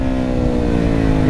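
A KTM SMC R 690 motorcycle engine runs loud and close, holding a steady, throaty drone with no pause or drop for the whole brief moment.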